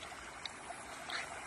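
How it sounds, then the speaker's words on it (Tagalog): Floodwater runs along a road in Ormoc, Leyte, turned into a river between rice fields, heard as a faint, steady, even rush of flowing water with no speech. "yung kalsada namin nagiging ilog"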